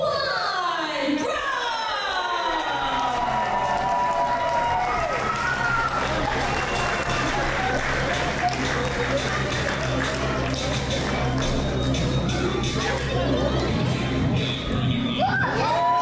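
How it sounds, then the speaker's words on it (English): A wrestling crowd at a Northwest Pro event erupts in cheers and whoops for a wrestler's entrance, loud and sustained, with an announcer talking over the roar. "Listen to this crowd just erupt at the sight of Taekwon Bro."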